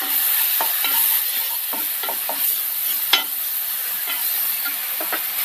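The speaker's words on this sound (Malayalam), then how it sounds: "ഇനി നമുക്ക് അതിലേക്ക് അരച്ച് വെച്ച സവാള ചേർക്കാം. ഒന്ന് മിക്സ് ചെയ്യാം." Ground onion paste stirred into a frying spice mix for white chickpea curry, a steady loud sizzle with repeated scraping strokes of a spoon against the pan.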